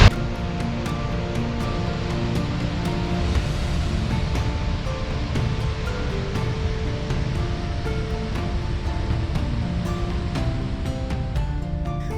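A continuous roar of rushing water fills the scene, steady and loud, from a powerful waterfall in northeastern Iceland heard from close by.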